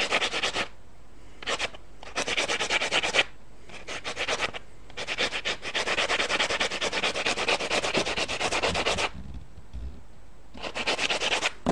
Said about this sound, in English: just sand it down so that it meshes correctly in the receiver